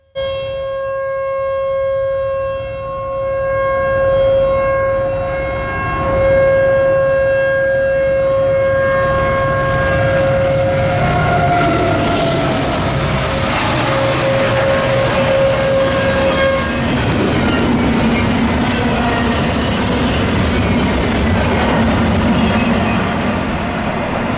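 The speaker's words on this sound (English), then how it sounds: "we got our next train while the siren was still blaring" An Amtrak train rolls past, steady horn-like siren tones holding for several seconds before fading into the loud rumble and clatter of cars passing close by.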